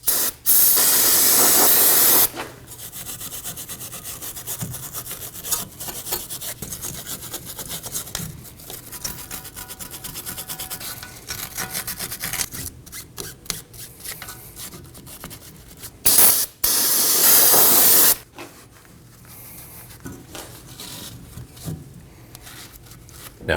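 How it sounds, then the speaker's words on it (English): Brake parts cleaner sprays in loud hissing bursts at the start and again midway, with scrubbing brush strokes on the hub mating surfaces of a Ford Edge rear wheel bearing assembly in between. "Now we can use some brake parts cleaner and a brush to go ahead and clean up our mating surfaces."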